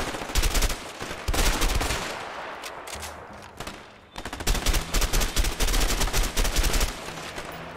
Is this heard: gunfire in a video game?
yes